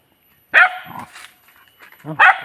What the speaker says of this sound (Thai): เห่าอะไรครับพี่ซี